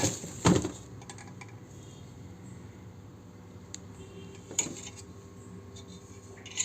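Metallic clanks from a pressure cooker and its lid being handled, a loud clatter near the start, then a low steady hum with a few faint taps and another clank later on.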